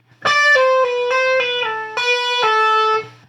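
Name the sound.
electric guitar lick with slides and hammer-ons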